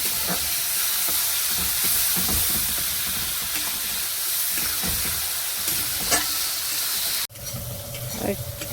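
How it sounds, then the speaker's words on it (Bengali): Spices with cumin powder and salt sizzle and hiss steadily in hot oil, with occasional scraping stirs, before the frying abruptly quiets near the end. "মশলাটাকে ভালো করে ভেজে নেব।"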